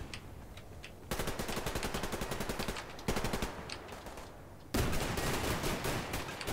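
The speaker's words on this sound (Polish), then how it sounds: "Słychać strzały." Gunfire in the video game Survarium rattles in rapid automatic bursts, three long volleys, each louder than the last, with brief quieter gaps between them.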